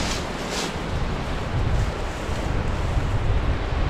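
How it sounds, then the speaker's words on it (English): A waterfall at Hay River in the Northwest Territories roars as a steady broadband rush of falling water, continuous and fairly loud, with wind buffeting the microphone. "There's the falls, folks."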